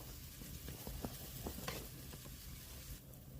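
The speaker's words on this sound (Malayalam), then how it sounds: "നല്ലപോലെ ഇളക്കി അതിൻ്റെ പച്ചമണമൊക്കെ മാറട്ടെ" Green masala for chicken biryani being stirred in a pot: a soft, continuous sizzle with scattered scraping clicks of a spoon against the pan, low and close with no talking.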